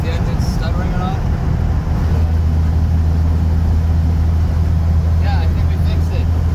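Interior of a Rover car cruising in fifth gear, with a steady, loud low engine drone and road rumble filling the cabin and no break in the sound.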